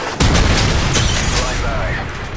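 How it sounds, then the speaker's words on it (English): A Predator missile from Call of Duty detonates with a loud, sustained rumbling boom that rolls on for a couple of seconds, with a game announcer voice over it. "Predator missile inbound."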